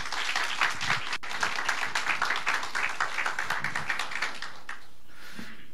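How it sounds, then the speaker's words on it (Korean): Church congregation clapping to welcome a guest pastor, a rhythmic, moderately close applause with distinct beats that gradually thins out and fades near the end. "박수로 환영하겠습니다."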